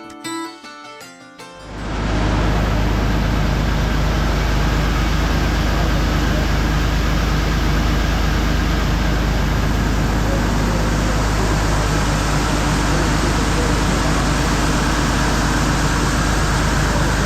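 A Massey Ferguson 5S.135 tractor engine drones steadily and loudly during baling work, a dense continuous roar that swells in after a short quieter moment and holds without a break.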